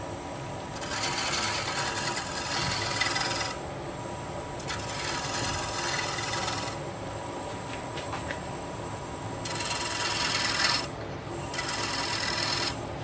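Bowl gouge smoothing a turned wood bowl on a lathe, giving a steady rasping, scraping hiss in several long passes separated by short pauses, with the motor hum running underneath.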